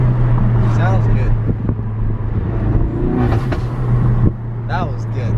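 A Ford RS car engine revs hard with a loud, throaty aftermarket exhaust, punctuated by sharp bangs, while people talk over it.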